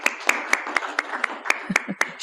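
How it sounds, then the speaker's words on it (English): About ten sharp, evenly spaced claps ring out close by, honoring a guild treasurer, with a faint murmur underneath. "Can I have a round of applause for our treasurer"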